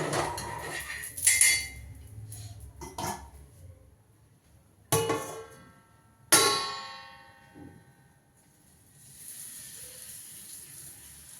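A chapati is laid onto a tawa over a gas stove, giving a few sharp metallic clanks and clatters with quiet gaps between them and a faint hiss toward the end, with no talking.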